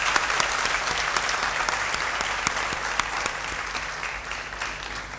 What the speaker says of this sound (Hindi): तालियों की गूंज हमेशा मुझे बहुत अच्छी लगती है।